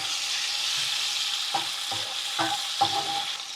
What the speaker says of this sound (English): I'm just gonna give those all a really quick saute.